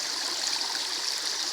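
Water at Cachoeira da Serrinha, a waterfall running low from lack of rain, gives a steady close rushing and trickling wash with no pauses or voices.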